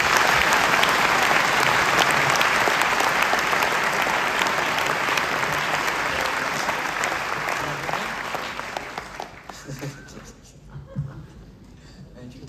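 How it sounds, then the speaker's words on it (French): An audience at a Nuit de la Glisse screening applauds Alexis Verny of Chamonix, a loud, dense, sustained burst of clapping that gradually thins and dies away, leaving scattered claps and low crowd murmur. "Donc je voudrais que vous applaudissiez Alexis Verny de Chamonix."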